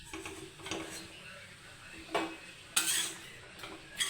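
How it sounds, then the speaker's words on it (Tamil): Rice flour for black kavuni rice puttu is stirred while dry-roasting in an iron pan, with faint scraping and sporadic metallic clinks of the spoon against the pan, quiet and close. "அந்த இரும்பு சட்டியில் போட்டு வறுக்கேன்"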